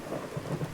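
Thunderstorm in Skyrim with the True Storms mod, a brief low rumble of thunder under a constant hiss of falling rain.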